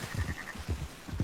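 A small lamb in the video game Red Dead Redemption 2 gives a few soft, quick bleats, faint and close, with no talking.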